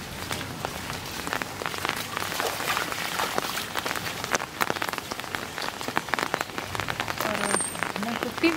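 Heavy rain falls in a dense, steady patter on surfaces nearby, loud and continuous, with faint talking mixed in under it.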